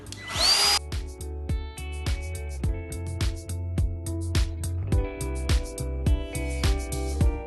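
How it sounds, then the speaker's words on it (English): A power router rounds the edge of a wooden stair tread in repeated short passes, whining, each burst starting and stopping sharply, loud and close with brief pauses between cuts. "got my router all set up and we'll run through here real quick"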